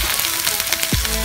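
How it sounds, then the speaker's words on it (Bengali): Onion, ginger and garlic fry in a pan for a Bengali-style omelet curry, giving a steady close sizzle with a couple of soft scraping knocks near the end. "পেঁয়াজ আদা রসুন খুব ভালোভাবে ভাজা হয়ে গেছে।"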